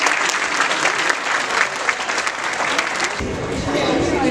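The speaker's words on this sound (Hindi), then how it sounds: "तो आइए जोरदार तालियों के साथ हम राग के सारे सदस्यों का स्वागत करते हैं" Loud, enthusiastic applause from an audience at a Janmashtami celebration welcomes the Raag performers, with thick clapping for about three seconds before it gives way to a different sound.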